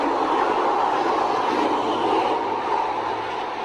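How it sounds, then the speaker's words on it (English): A train passing close by, with a loud, steady rumble and rail clatter holding throughout and easing slightly toward the end, heard alone with no talk. "here comes the train now"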